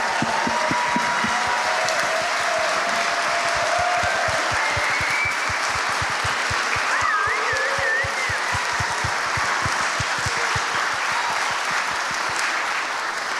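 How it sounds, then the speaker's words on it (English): A standing audience at a live horror game awards event applauds continuously, dense clapping that stays loud and even throughout, with a rhythmic low thumping and faint whistles or cheers rising briefly in the middle. "please stand up so we can give them a round of applause"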